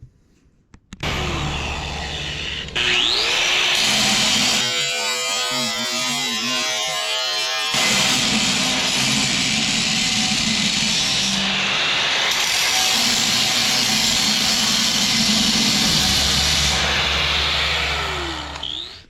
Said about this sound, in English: We're actually just using this simple grinding wheel.